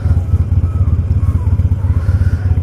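A Harley-Davidson Iron 883 motorcycle being ridden, its engine giving a loud, steady low rumble with a rhythmic pulsing throb and some wind and road noise.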